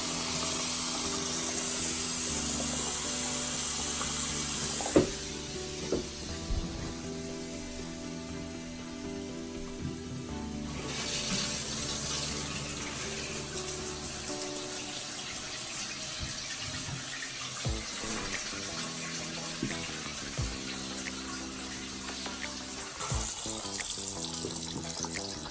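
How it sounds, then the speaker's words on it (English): Steady rushing water sprays and splashes continuously at close range from a pipe leak indoors, with occasional thumps and clatter partway through; no one speaks. "The water's raining down in here."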